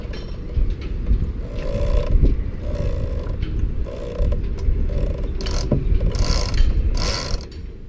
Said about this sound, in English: We have a service winch.